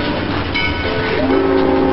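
A train rumbles past close by, loud and steady, with a horn-like tone sounding partway through.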